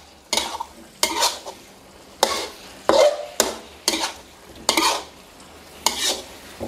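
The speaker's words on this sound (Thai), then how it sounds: "ลงไปแบบนี้เลยแล้วก็คลุกเคล้าให้เข้ากันครับ" Spicy dry chicken wings being stirred and tossed in a pan, with about eight regular scraping strokes of a utensil against the pan over a soft background sizzle.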